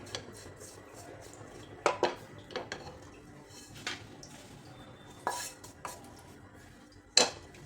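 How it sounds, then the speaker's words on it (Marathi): Roasted grated coconut being scraped and lifted out of a pan with a spoon, giving scattered metallic clinks and scrapes of utensil on cookware, a few sharper knocks standing out from a quiet kitchen background. "आता हे छान भाजलेले काढून घ्यायचे"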